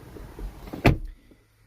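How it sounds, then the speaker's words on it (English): A single solid door slam on a 2022 BMW X5 M50i in Dravit Grey Metallic, heard close from inside the cabin. A soft rustle of movement comes before it, then near silence. "let me just get inside here and shut the door"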